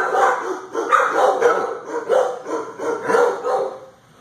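Several dogs at an animal shelter bark repeatedly in overlapping bursts, a loud, echoing, continuous din with occasional yips, while a person talks faintly in the background.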